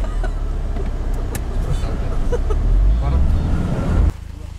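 A car crawls slowly through deep snow on an off-road expedition in Bashkiria, a steady loud engine rumble with wind buffeting, running continuously before cutting off abruptly near the end.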